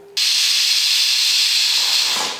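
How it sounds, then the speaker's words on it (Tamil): A loud, steady hiss of escaping steam bursts on abruptly and holds, then fades briefly at the end, a pressure cooker whistling while cooking sambar rice. "குக்கரில் பார்த்தீங்கன்னா அஞ்சு விசில் விட்டு ஆஃப் பண்ணியாச்சு"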